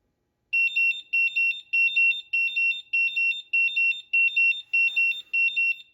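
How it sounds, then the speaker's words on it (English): A G.T. Power TD610 Pro balance charger sounds its charge-complete alarm: a loud, shrill electronic beep pattern repeating in quick double pulses about nine times, close and alone. "So now it's got an audible alarm."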